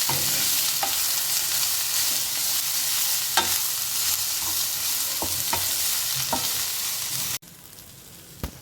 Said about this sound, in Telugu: ఉడకబెట్టుకున్న పెసరపప్పు వేసుకున్నాను బాగా కలిసేదాకా వేసుకోవాలి